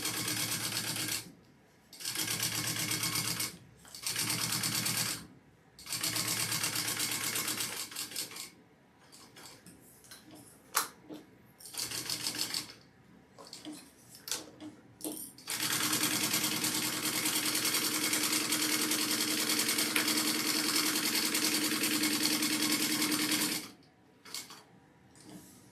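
A sewing machine stitches a bag of nylon and foam in steady runs, starting and stopping in bursts, then one long continuous stretch near the end, close and fairly quiet with small mechanical clicks between runs.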